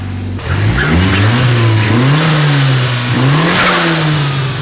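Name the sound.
car engine revving through exhaust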